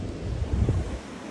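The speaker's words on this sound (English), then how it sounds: "And this wind is freaking going nuts again." Strong gusty wind buffets the microphone outdoors during pallet workbench building, a steady low roar that swells briefly midway.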